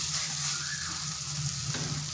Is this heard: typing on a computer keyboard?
no